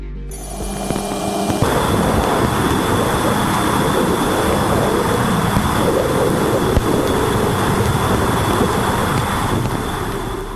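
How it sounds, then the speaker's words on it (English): Raw, untouched plasma waves picked up by Voyager 2 during its flyby of Neptune: a dense, continuous roaring hiss with a steady high tone that kicks in loudly after a brief start and holds evenly throughout. "untouched sound of plasma waves as recorded by Voyager 2 during the flyby of Neptune"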